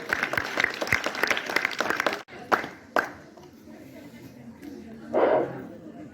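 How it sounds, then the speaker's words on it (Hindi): Students at a class 12 farewell clap for the principal in a brisk burst of applause that stops after about two seconds, followed by quieter room noise and a voice. "इनका जोरदार तालियों से स्वागत कीजिए।"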